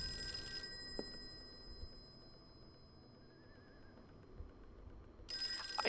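A telephone bell rings in the Call of Cthulhu video game, with short bursts at the start and end of the stretch and a quiet room-tone gap between them.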